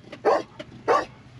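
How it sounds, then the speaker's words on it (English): A dog barks twice in quick succession, close and fairly loud, with softer short yips or whimpers between the barks, outdoors while free camping on the road in Arizona. "No bark, Rudolph."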